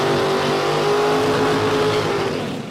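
Loud, close engines roar at a drag racing motorplex as a Fox Body Mustang and a 1969 Camaro launch in the 450 final, a sustained revving blast with no talk.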